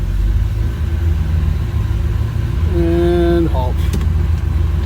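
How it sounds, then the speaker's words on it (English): A Pontiac LeMans engine idles with a steady, loud low rumble throughout, while a voice speaks briefly over it and a short rising whine or squeal appears near the end. "I'm gonna let her idle for a minute."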